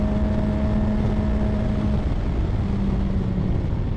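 A car fitted with an aftermarket exhaust tip gives a steady, loud engine drone with a low, throaty hum and a faint tonal whine that fades partway through, and no one speaks.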